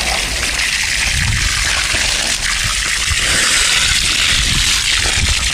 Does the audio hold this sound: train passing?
no